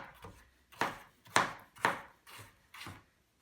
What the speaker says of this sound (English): You can cut it into chunks.